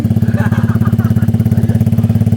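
A Honda Click V4 scooter fitted with a titanium and carbon open-pipe exhaust runs close up, its loud, rapid, rhythmic putter throbbing evenly throughout with no talking.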